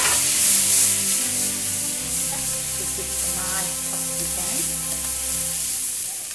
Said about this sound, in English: Toss in the potatoes, which I have pre-boiled.